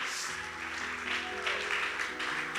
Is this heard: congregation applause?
yes